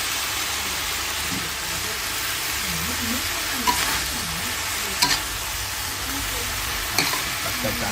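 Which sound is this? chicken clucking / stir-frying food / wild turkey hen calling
stir-frying food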